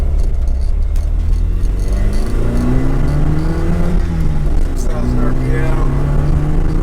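A 1976 Alfa Romeo Alfetta GT engine hums steadily while driving, with a low drone and rising and falling tones as it accelerates, heard from inside the car with faint talk over it.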